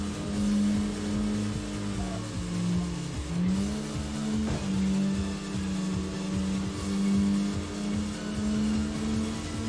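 Opponent race car engine in Tokyo Xtreme Racer, a sustained low drone with shifting pitch as the car revs and holds speed behind, steady and fairly loud with a brief tire-squeal accent midway.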